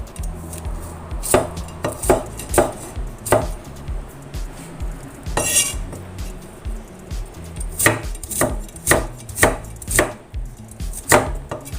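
Peeled, washed chayote sliced into thin strips on a board, a close run of sharp, uneven knife chops in quick bursts with brief pauses between them, no talking.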